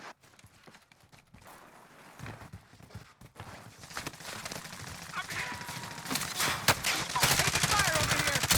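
Gunfire in Call of Duty: Warzone at Verdansk, scattered shots and bursts that build from sparse and distant to denser and louder, mixed with footsteps and battlefield noise.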